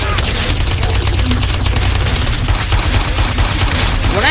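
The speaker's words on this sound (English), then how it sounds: "The strippers don't like when I start firing." Rapid gunfire in the video game GTA San Andreas, a loud dense burst of shots that runs continuously throughout in game audio.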